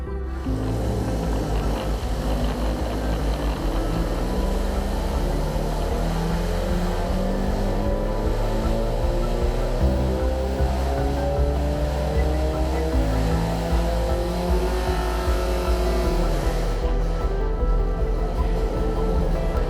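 A car engine runs hard on a dyno during a baseline pull, a loud, continuous roar with harmonics rising steadily as revs climb, heavy vibration and no speech.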